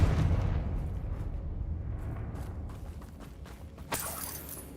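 A Confringo fire-spell blast in the Hogwarts Legacy video game: a dense, rumbling explosion that slowly fades, then a sharper crackling burst just before the end.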